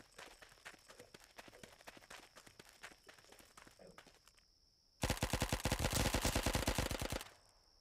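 Gunfire in the video game Phase Line: scattered lighter shots and footsteps give way to a loud, sustained rapid-fire burst of automatic weapon fire lasting about two seconds before it cuts off.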